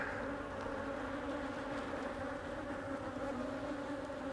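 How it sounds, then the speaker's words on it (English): Honey bees buzzing around an open hive during an inspection with swarm cells, a dense steady drone that fills the whole recording, close and continuous. "So there is too many bees"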